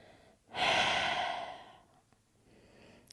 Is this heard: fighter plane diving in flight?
no